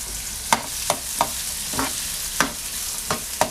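Onion frying in a pan over medium-high heat, a steady close sizzle broken by about eight distinct stirring scrapes spaced roughly half a second apart, with no talking.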